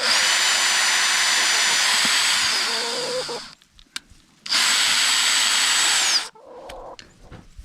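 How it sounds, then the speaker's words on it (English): A power drill bores through a rubber tire for a chicken tire swing in two loud, whining bursts, the first long and the second shorter, with a quiet pause between them. "So I'm just going to drill the first one"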